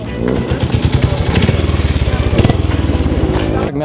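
Speedway motorcycle engine racing on a Polonia Piła track, a loud, buzzing rev with rapid pulsing throttle bursts, close and continuous throughout, with a faint voice beneath.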